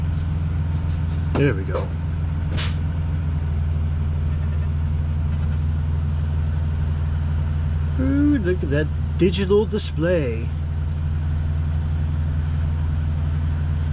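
Steady low idle hum of a truck engine running after being switched on, a constant drone throughout with a person talking over it.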